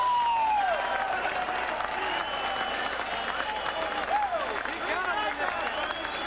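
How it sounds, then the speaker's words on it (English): A boxing arena crowd applauds and cheers in the closing seconds of a fight, a loud, steady wash of clapping and voices. A commentator talks over it throughout. "And the crowd reacts."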